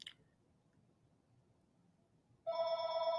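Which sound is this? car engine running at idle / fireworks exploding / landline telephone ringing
landline telephone ringing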